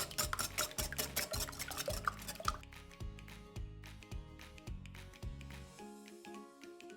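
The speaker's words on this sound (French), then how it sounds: "je commence à battre tout doucement en cassant les jaunes" Eggs seasoned with salt and pepper beaten gently in a bowl for a chorizo clafoutis, a steady rhythmic series of soft taps and wet sloshes, close and quiet, alone.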